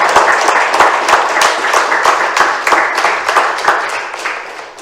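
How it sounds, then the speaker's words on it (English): Audience applause after a lecture at the University of Oxford, a loud, close burst of many people clapping in a lively rhythm that fades slightly toward the end. "let us all give us, sir, a big round of applause again"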